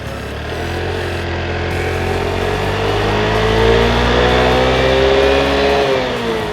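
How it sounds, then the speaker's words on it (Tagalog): A 2015 KYMCO G6E 125cc scooter engine runs steadily and fairly loud throughout, its pitch rising gradually and then dropping near the end, with no talking. "Ngayon po, papaanda rin po namin para mapakinggan nyo po yung tunog ng makina."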